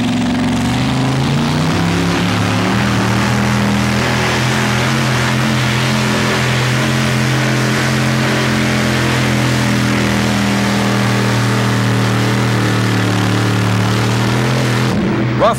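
Two-wheel-drive pulling truck engine at a 1987 truck pull in Fort Wayne, Indiana, running on a lot of fuel, roaring loud and steady with a deep throbbing drone that climbs slightly in pitch and holds for about fifteen seconds.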